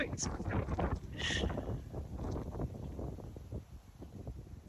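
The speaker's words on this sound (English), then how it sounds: "It's very windy." Gusty wind buffets the microphone outdoors, a steady low rumble with louder surges near the start, while a person speaks over it.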